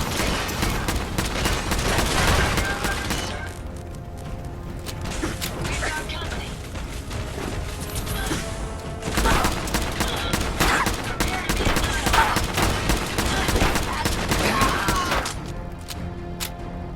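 Sustained bursts of automatic gunfire and mechanical clatter fill a Fallout 4 Automatron combat scene, loud and dense with brief lulls, while game voices speak over the shooting.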